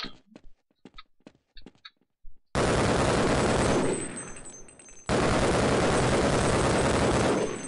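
Heavy automatic gunfire in the shooter game Half-Life, loud sustained bursts that follow a few sparse ticks and clicks, briefly easing before resuming at full intensity.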